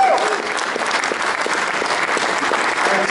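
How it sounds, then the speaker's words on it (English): An audience claps steadily for a few seconds at a live digital caricature workshop, with a dense, even patter of hands and no distinct voices. "Hey, let's hear it for Jon, guys"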